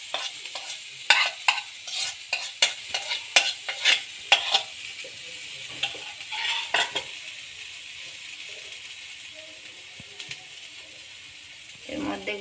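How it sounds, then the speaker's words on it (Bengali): Grated coconut stirred in a hot wok, with a series of sharp scraping and clattering strokes of the spatula against the pan, close and fairly loud at first, then thinning into a faint soft sizzle with a few later scrapes. "তো আমি নারকেলটা দিয়ে দিচ্ছি, কড়াই বসিয়ে দিয়েছি, গরম হয়ে গেছে।"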